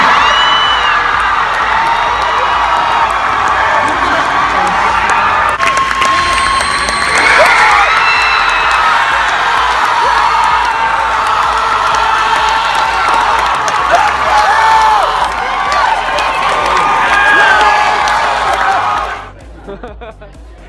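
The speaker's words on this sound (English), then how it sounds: "the biggest roar from the crowd I heard at this expo was at the gaming panel's introduction of Kingdom Hearts 3" A large crowd roars, cheers and whoops at a Kingdom Hearts 3 trailer reveal during a D23 Expo gaming panel, loud and sustained with scattered shrill shouts, cutting off abruptly near the end.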